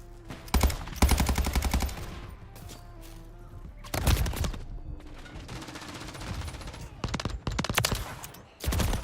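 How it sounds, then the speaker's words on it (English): Rapid bursts of decoy grenade gunfire in Call of Duty MW Zombies, loud crackling volleys repeating in clusters across the span with brief gaps between them. "Decoy grenade out."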